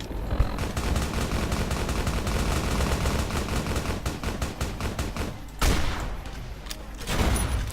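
Rapid, dense gunfire from a Fallout: New Vegas battle at Hoover Dam, with sniper rifle shots mixed into a near-continuous loud fusillade, a brief lull, then sharp reports resuming.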